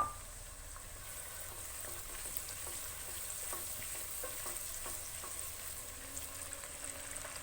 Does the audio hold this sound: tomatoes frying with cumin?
yes